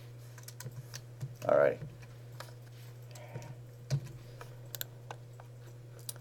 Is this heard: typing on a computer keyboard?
yes